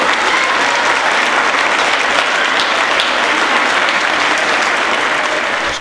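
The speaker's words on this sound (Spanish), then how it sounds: "Un aplauso para ela." A local audience in Bembrive gives loud, steady applause to a gold award recipient, a dense, unbroken clapping that carries on without speech until it cuts off.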